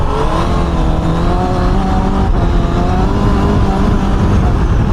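A car on new tyres accelerates hard while its rear end slides, a loud close engine roar with rising rev tones that holds steady throughout.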